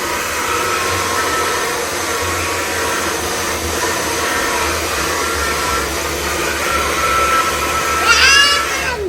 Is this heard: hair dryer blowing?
yes